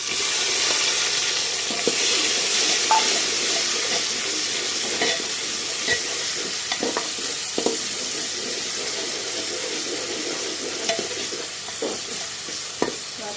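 Ginger, garlic, chili paste and tomato fry in a pan with a steady bright sizzle, punctuated by clinks and scrapes of a spoon stirring; no one speaks.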